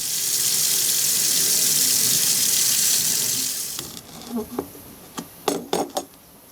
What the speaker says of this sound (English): then we'll give it another really good rinse